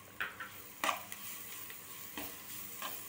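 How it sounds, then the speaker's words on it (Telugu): Turmeric powder is stirred into a rice mixture in a pan for mango carrot pulihora, with faint scrapes and taps of a spoon over a low sizzle, close by and sparse. "పసుపు పొడి వేసుకొని బాగా కలుపుకోవాలి"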